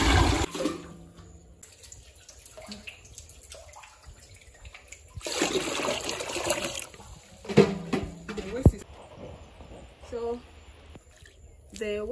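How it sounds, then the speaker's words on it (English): Water sloshing and pouring as a container is used to fetch water from a village well in Africa, intermittent splashes and clanks of moderate loudness separated by quiet gaps. "It's not really easy balancing the container to fetch the water."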